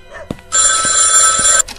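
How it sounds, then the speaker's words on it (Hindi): A telephone rings in a dark horror video game, one loud sustained bell burst of about a second, close and clear, with faint footstep-like thumps before and after. "फोन बजा"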